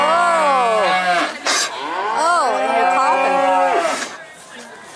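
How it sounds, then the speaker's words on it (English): A cow on a farm gives loud, drawn-out moos close by, several long bellowing calls in a row, with a person briefly speaking in between. "You're a beautiful cow, too."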